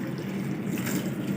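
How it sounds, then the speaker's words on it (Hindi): Two glasses of water poured into a pot of beef with salt, turmeric and whole spices, a soft steady trickle and splash heard close and quietly. "2 गिलास पानी ऐड करेंगे।"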